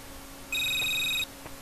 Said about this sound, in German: Aber hier ist noch ein Telefon